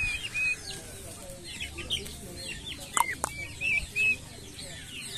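Turkeys on a backyard farm give off scattered clucking and chirping calls, several short bursts standing out close by over a steady outdoor background, with a brief flutter near the middle.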